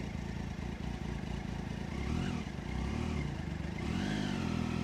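A Triumph Daytona 675 motorcycle engine runs steadily nearby, a low throbbing idle with a slight rise in revs partway through.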